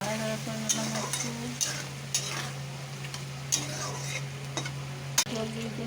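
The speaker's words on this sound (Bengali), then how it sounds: "আদা রসুনের ঝোল নাড়াচাড়া করে নিলাম" Ginger garlic gravy gets stirred in a frying pan, a spatula scraping and clicking against the metal in irregular strokes over a continuous sizzle, with a steady hum beneath and no talking.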